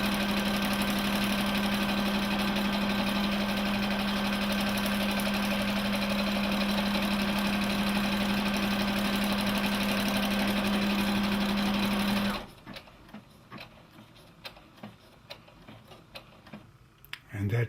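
A Brother PB6800 combo sewing machine runs an automatic lock stitch, a loud steady mechanical hum with rapid ticking held for about twelve seconds, then stopping abruptly and leaving faint clicks and handling noises.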